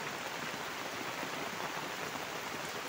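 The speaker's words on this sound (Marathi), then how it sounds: "आता जोरदार आले बघा, किती जोरात आलाय पाऊस." Heavy rain pours steadily onto a flooded paddy field in Konkan during rice transplanting, a dense continuous hiss of drops with no break or voices across the short stretch.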